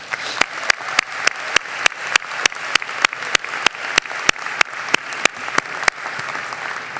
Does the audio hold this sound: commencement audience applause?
yes